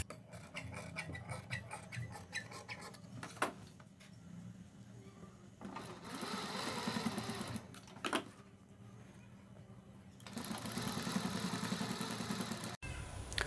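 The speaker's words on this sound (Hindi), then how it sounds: "अब हम इस प्रकार से कपड़े को अंदर के साइड लेंगे और पाइपिंग के बराबर बराबर सिलाई लगाएंगे।" Sewing machine stitching piping onto a garment neckline, faint rapid mechanical stitching in several runs broken by pauses and handling clicks, recorded at low level without talk.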